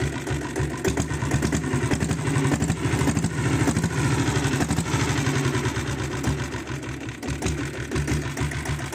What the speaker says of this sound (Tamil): வண்டி பீட்டை கேளுங்க.